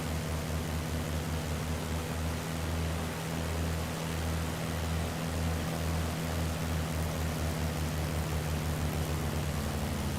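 Propeller aircraft engines, including Spitfires, droning in formation in a multiplayer flight simulator over Britain, a steady loud hum with a pulsing low throb, continuous for the whole stretch.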